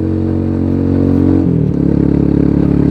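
Rusi Sigma Adventure 250 motorcycle engine droning loud and close while riding on the Marilaque road, with a strong low hum and a gear shift partway through, then a steady pulsing drone with no talk.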